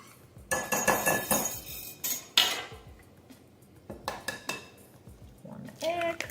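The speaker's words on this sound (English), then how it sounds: "and whisk." Batter being whisked in a bowl with baking soda, sugar and salt, with clattery bursts of a whisk or utensil knocking against the bowl and some clinks, close by and intermittent.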